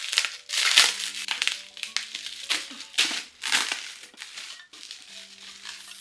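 Purple tissue paper being unwrapped during a book and webtoon unboxing, crackling and crinkling in irregular close bursts, loud and near with no talk over it.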